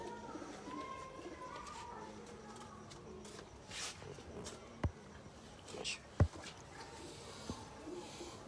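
Pigeons at a breeder's loft cooing softly in the background, low and faint, under quiet talk, with a couple of sharp knocks or thuds nearby.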